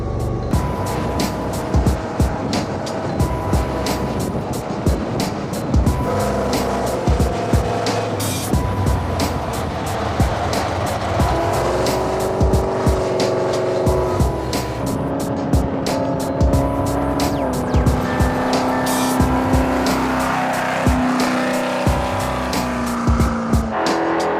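A rebuilt Ford F100 prerunner truck on its first drive, a loud engine droning and revving throughout from inside the cab, with shifting pitch and rattles from the road and chassis.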